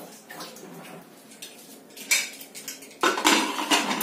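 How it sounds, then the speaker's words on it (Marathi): A metal pressure cooker lid is handled and clanked shut, a few close bright metallic clatters and scrapes, louder toward the end. "कुकरचं झाकण बंद करून"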